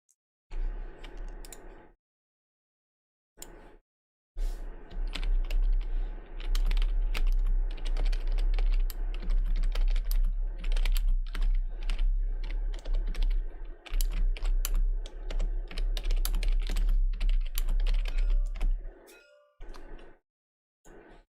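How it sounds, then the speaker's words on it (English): Rapid clicking keystrokes on a computer keyboard, close and fairly loud, come in long bursts over most of the span, broken by short silent pauses near the start and end. "Excuse my typing, chat."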